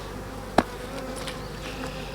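Honey bees buzz steadily in a faint, continuous drone during a varroa mite alcohol wash that uses blue windshield washer fluid. A single small click cuts in briefly.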